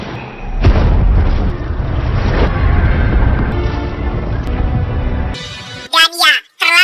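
A loud, rumbling blast in The Batman (2022), with heavy low-end roar sustained for several seconds, followed by whooshing sweeps and a voice near the end.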